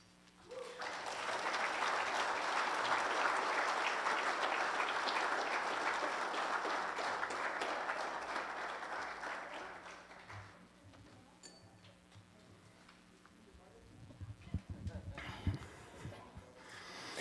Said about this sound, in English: Man, let's give our volunteers and Ethan another big round of applause.